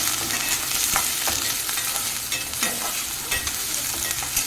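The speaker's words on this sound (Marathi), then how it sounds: "हे जे मटर आहे ते टाकायचे, कारण की कांद्यामध्ये मटर छान शिजतं।" Green peas cooking with onions in a pan over a low flame, a dense steady sizzle broken by frequent scraping stirs, close up with no one talking.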